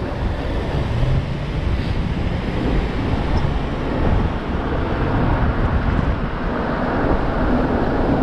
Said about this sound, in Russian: Ох, ветер какой встречный.